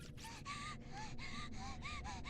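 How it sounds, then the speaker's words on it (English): A Corpse Party character pants and gasps in a rapid series of sharp breaths, about seven or eight in quick rhythm, over a steady background hum. "Pant, gasp, wheeze, sputter."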